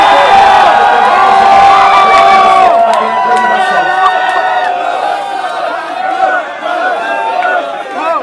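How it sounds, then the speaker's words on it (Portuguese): A loud crowd cheers and whoops at a freestyle rap battle held outdoors in São Gonçalo, with shouting voices and dense chatter holding steady throughout. "barulho que gostou da rima do MC Padura"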